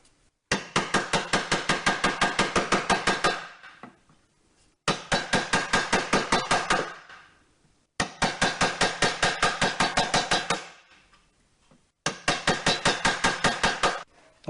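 Wood chisel paring thin chips from a piece of wood, working along the grain: four bursts of rapid, evenly spaced sharp taps and scraping strokes, each lasting about three seconds with short pauses between, close and clear with no voices.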